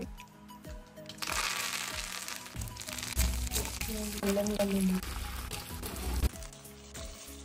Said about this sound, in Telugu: ఆయిల్ లోకి ఆవాలు, జీలకర్ర చిట్పట్